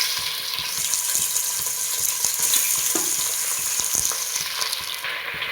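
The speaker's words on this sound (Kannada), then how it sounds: "ಈಗ ಈರುಳ್ಳಿ ಫ್ರೈ ಆಗಿದೆ, ಅದಕ್ಕೆ ತೊಳೆದಿರುವಂಥ ಮಟನ್ನ ಹಾಕ್ಕೊತಾ ಇದ್ದೀನಿ ನಾನು." Washed mutton added to onions already frying in hot oil makes a loud, continuous close sizzle with quick scraping and stirring clicks throughout, with no talking.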